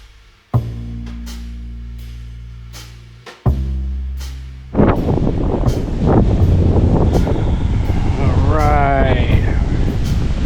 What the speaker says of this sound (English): wind is intense.